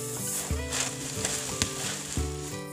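Food stirred in a sizzling pan, with steady frying hiss broken by a few sharp utensil knocks and scrapes against the pan, close and alone without speech.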